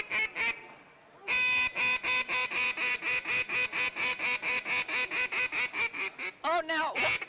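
A person blows a duck call at a waterfowl festival, a loud, close string of rapid quacks in an even rhythm, with a brief opening burst, a pause, then a long run ending in a few drawn-out notes.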